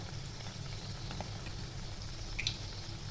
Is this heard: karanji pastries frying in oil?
yes